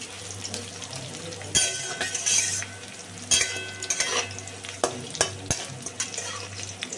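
Bitter gourd slices frying in hot oil are stirred with a spatula, giving a steady sizzle punctuated by several loud scraping, clattering strokes against the pan, close and without speech.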